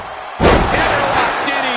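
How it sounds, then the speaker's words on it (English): A heavy German suplex slam hits the mat during a WWE wrestling match, a single loud thud followed by sustained crowd roar. "German suplex."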